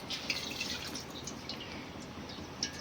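Leftover fish-frying oil poured into a kitchen wok makes a faint, steady trickle with soft drips and light crackle, alone and without speech.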